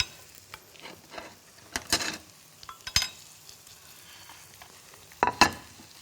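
Buckwheat pancake batter frying in an oiled pan over medium heat, with soft sizzling punctuated by several sharp clinks and scrapes of a utensil against the pan, close and fairly quiet.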